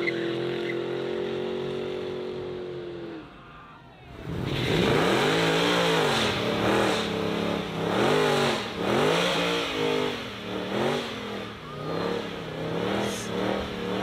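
Car accelerates hard, its engine first holding a steady high rev, dipping briefly, then roaring through repeated rising and falling gear pulls, loud and close throughout.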